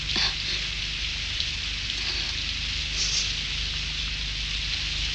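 Steady rain hisses continuously, a dense even patter with no voices.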